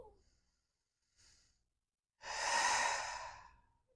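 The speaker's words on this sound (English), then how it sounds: "just slowly deepening your breath" Slow, deep breathing close to the microphone: a faint short breath, then one long, airy exhale that swells and fades over a second or more, alone in a quiet room.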